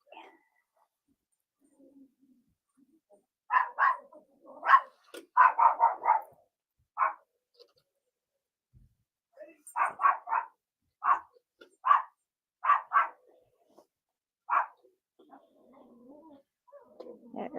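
A dog barks in short bursts and clusters, loud and close, in an indoor studio with long quiet gaps between the volleys.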